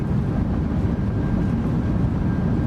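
Steady low roar of the thrust reversers on a PMDG 777 airliner during landing rollout in Microsoft Flight Simulator 2024, a constant rumbling engine wash heard alone throughout.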